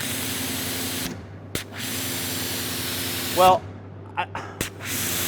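A pressure washer fitted with a triple nozzle sprays with a loud, steady hiss and motor hum, broken by brief pauses and short trigger bursts, while someone speaks briefly nearby.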